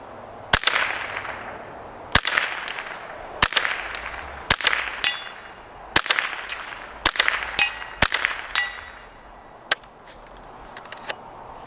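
A Henry AR-7 survival rifle fires about ten sharp cracks from an 8-shot magazine at uneven spacing, each shot loud and close with a short echo trailing off outdoors.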